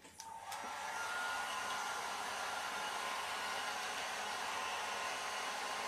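Hair dryer drying alcohol ink on aluminum: a click and brief start-up, then a loud, steady close-up roar of blowing air with no talk.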